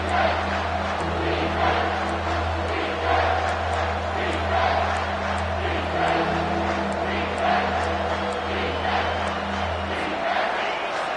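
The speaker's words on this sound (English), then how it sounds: "this crowd is tearing the lid off this place" A stadium crowd at a football game roars in a sustained, broad wall of noise on a third-down play, with a low steady drone beneath and rhythmic swells throughout.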